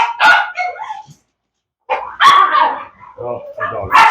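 A young dog among a litter of puppies about four to five weeks old barks and yips in loud close bursts, with a person talking between the barks.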